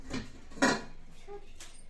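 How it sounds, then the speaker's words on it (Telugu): A metal lid clatters onto a pan of frying tomato and onion, one sharp clank in quiet surroundings with a couple of softer utensil taps around it. "అట్లా వచ్చేదాకా నేనైతే మూత పెట్టి పెడతా పక్కన."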